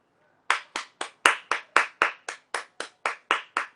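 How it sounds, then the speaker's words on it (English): A single person's hands clap in an even, steady rhythm, about a dozen sharp, close claps in a quiet room, showing support for healthcare workers. "Clapping for our healthcare heroes."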